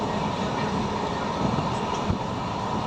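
The Himsagar Express from Tirunelveli rumbles past in rain at steady volume, wheels and carriages clattering faintly under a broad, continuous roar.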